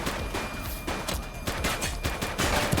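Rapid bursts of gunfire from a police shooter video game, dense overlapping shots cracking in quick succession, loud and continuous across the whole stretch.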